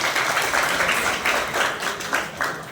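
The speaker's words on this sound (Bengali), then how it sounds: "তাদের জন্য একটা জোরে হাততালি চাই।" Loud applause from an audience at an engineering institute event, honouring teachers: a dense, steady wash of many hands clapping, close and continuous with no voices over it.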